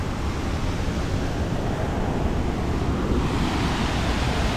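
Waterfall on the Trilha do Ouro trail near São José do Barreiro, a steady, dense roar of falling water that holds constant and fairly loud throughout, with no voices.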